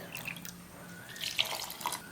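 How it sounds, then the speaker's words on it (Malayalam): Water is poured into a grinder jar for dosa batter, heard as a faint trickle with a few soft splashes and drips near the end, and no voices. "3/4 കപ്പ് വെള്ളം ചേർക്കുന്നുണ്ട്"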